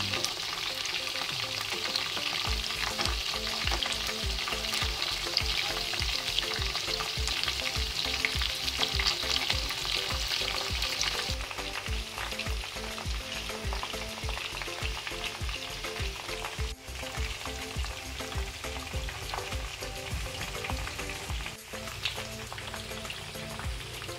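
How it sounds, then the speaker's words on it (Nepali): Chicken lollipops deep frying in hot oil for a restaurant-style recipe, a steady loud bubbling sizzle that runs unbroken throughout with no talking. "पाँच 6 मिनेटसम्म फ्राई भइसकेपछि हजुरले अर्को साइडमा फर्काउनु होला।"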